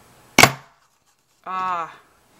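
A sharp snapping chop, then after a pause a short mechanical crunching squeak, as a button maker cuts out buttons.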